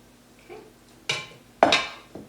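A utensil scrapes and knocks in a bowl while wet ingredients are folded into dry ones for banana oatmeal cookies: a few separate clinks and scrapes, close but fairly quiet, with no speech.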